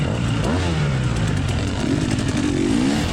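A motorcycle engine revs hard and continuously up close, its pitch rising and falling as the throttle works, with mechanical clatter mixed in.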